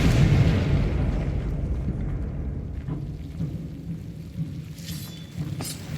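The Confringo blasting spell goes off in the Hogwarts Legacy video game with a deep booming explosion at the start, then a low rumbling tail that slowly fades over several seconds.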